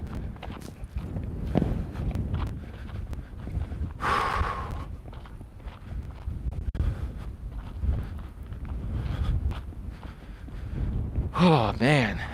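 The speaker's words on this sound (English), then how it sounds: "And it's very windy here right now." Steady low rumble of wind buffeting a microphone, with occasional gusts and a person talking faintly underneath.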